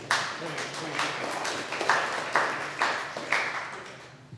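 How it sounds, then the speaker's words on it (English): Audience at a company meeting giving a round of applause, a sparse cluster of hand claps with rhythmic peaks, fairly faint, under and around voices talking. "Give Todd a round of applause."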